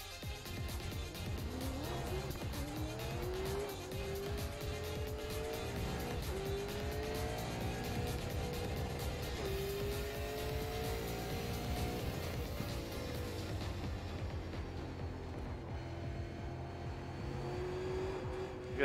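A super late model race car in iRacing running a lap, its engine droning steadily at high revs with pitch rising and falling through the corners, continuous and close for nearly twenty seconds.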